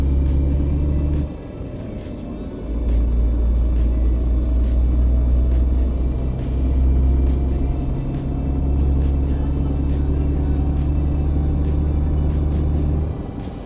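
Traffic in a truck simulator video game rolls past after an accident, a steady loud engine rumble with a brief dip and swells as vehicles go by, no talking.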